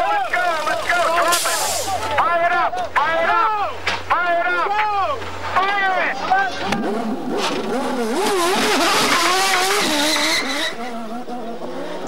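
A Newman-Haas IndyCar from 1993 screams out of the pits, engine notes rising and falling in rapid revving sweeps with tire squeal, loud and close, then building into a dense roar as it accelerates away.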